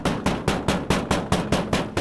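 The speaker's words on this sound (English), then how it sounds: "Every knock gets louder." Firm knocking on a door, a steady series of about nine evenly spaced, loud raps repeating roughly every quarter second, close and with no voices.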